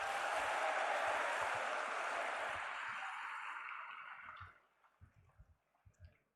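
Audience clapping at a CSC ten-year anniversary ceremony, a dense burst of applause from a crowd that holds steady, then thins out after about four seconds into a few scattered claps and knocks.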